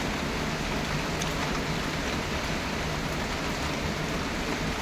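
Steady, dense rain hisses without pause, an even wash of noise with no voices or other distinct sounds.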